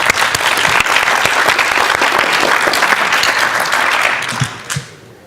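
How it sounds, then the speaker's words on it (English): Attendees at an annual general meeting of a Linux user association applauding together, loud sustained clapping from a roomful of people that tapers off over the last second into a few scattered claps and silence. "Round of applause for Terry"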